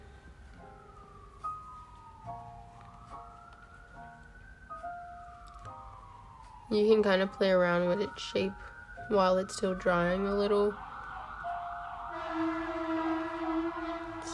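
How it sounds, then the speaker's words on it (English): Emergency vehicle sirens on a busy road, a distant wailing tone rising and falling steadily in the background while a person talks close by over it. "Sorry about the sirens."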